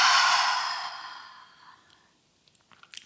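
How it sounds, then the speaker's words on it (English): A single big open-mouthed exhale during a yoga breathing exercise, loud and breathy at the start and trailing off over about two seconds, followed by faint small rustles. "And big audible exhale out."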